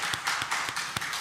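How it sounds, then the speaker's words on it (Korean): Church congregation clapping in thanks to God during a dawn worship service, a short burst of several sharp, evenly spaced claps, moderately loud in a reverberant room. "하나님 앞에 감사의 박수."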